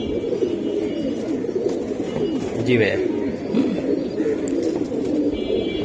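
Giribaz pigeons coo in low, soft repeated calls close by, partly under a voice talking over them.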